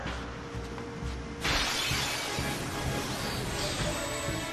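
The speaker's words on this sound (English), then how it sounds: "every time that we have that shattering effect and get into a random battle" Glassy shattering effect signalling a random battle in Final Fantasy X, a sudden bright crashing burst of broken-glass texture that washes in abruptly and lingers as a shimmering wash, with no speech.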